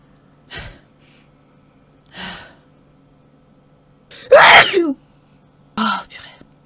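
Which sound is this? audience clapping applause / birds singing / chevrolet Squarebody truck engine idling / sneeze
sneeze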